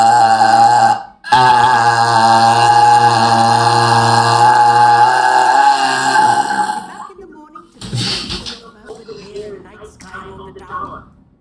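A long, loud, strained belch rumbles for several seconds, deep and droning, then breaks off into shorter gurgling burps and throaty sounds, close to the mic with no other voices.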